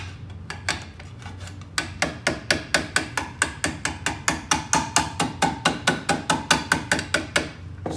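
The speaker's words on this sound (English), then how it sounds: "You let the hammer do the work." Hammer tapping the tabs of a thin sheet metal box over a stake, a quick even series of bright metallic taps, close and loud, gradually building in strength.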